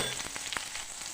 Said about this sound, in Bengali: ততক্ষণ বিনসটা ভাজা হোক